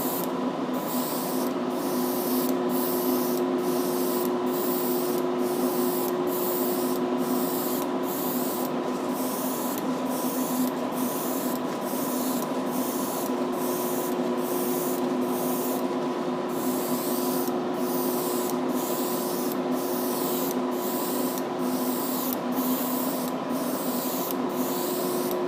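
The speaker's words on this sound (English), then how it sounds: "Love the Neo airbrushes, the Awada Neos." Iwata Neo airbrush laying down heavier paint coats on a Shelby Mustang car model, a steady close hiss of spray running continuously with a faint rhythmic pulsing, alone without talk.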